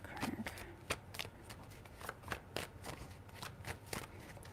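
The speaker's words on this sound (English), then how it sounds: "Just gonna give it a good shuffle real quick" A deck of cards is shuffled in a series of quick, crisp riffles and taps, fairly faint and close by, with no talking.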